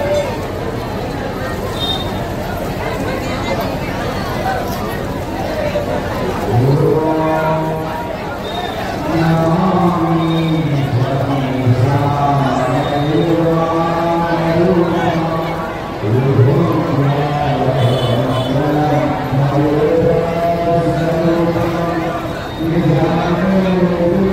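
Crowd of devotees at a Durga Puja aarti at Koilakh temple in Mithila, after rain: steady loud chatter and hubbub, with strong lowing or chant-like drawn-out voices rising and falling over it.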